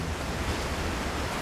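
A waterfall in the video game Devil May Cry 4 gives a dense, steady rushing roar with no breaks, filling the short stretch evenly and alone.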